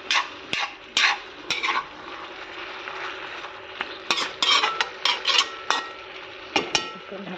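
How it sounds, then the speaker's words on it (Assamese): Potatoes frying with meat in a home kitchen pan, a steady soft sizzle under repeated sharp scraping and clinking of a spatula stirring, loud close strokes coming in uneven bursts. "এনেকৈ অলপ সময় ভাজিম এতিয়া মই। আলুখিনি আধা সিজাই পেলামগৈ।"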